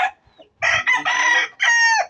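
A rooster crows loudly and close by in a long drawn-out call, broken by short clucks, then a second crow follows; no one speaks over it.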